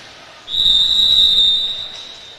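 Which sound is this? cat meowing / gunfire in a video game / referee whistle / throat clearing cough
referee whistle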